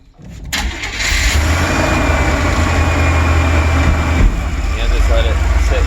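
A 1990 GMC G3500 Vandura van engine starts with a brief crank and settles into a loud, steady idle close by, with a slight rise in tone near the end.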